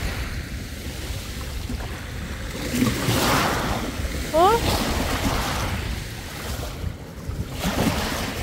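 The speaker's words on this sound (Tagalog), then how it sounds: "Ang lakas ng alon eh." Strong ocean waves surge and wash continuously with heavy wind buffeting the microphone, loud and close, while a person briefly exclaims.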